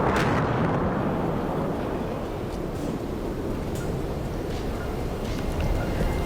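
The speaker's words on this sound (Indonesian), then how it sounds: "suara ledakan mengguncang area permukiman warga di pinggiran selatan Beirut, Lebanon" A deep, sustained roar and rumble follows an Israeli air strike on a residential area in the southern outskirts of Beirut, Lebanon, loud and continuous with a heavy low-end boom and no speech over it.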